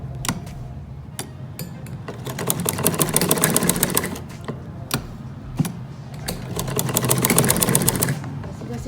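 A sewing machine stitches trouser fabric in two steady runs of rapid needle clatter, close and moderately loud, separated by brief pauses with sharp clicks as the machine is stopped to turn the cloth.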